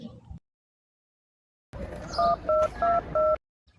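Telephone keypad tones: four short, evenly spaced dual-pitch beeps ring out clearly over a faint background hiss, after a brief muffled noise and a long stretch of silence.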